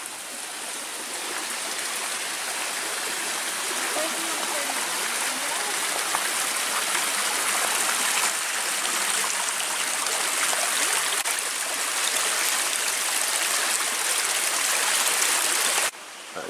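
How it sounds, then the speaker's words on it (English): A small woodland waterfall and stream beside a footpath bridge at Waggoners Wells in Hampshire gives a continuous, even rush of falling and flowing water that stays steady and close for the whole stretch. "So there's a bridge on your left, a little bit of a waterfall down here."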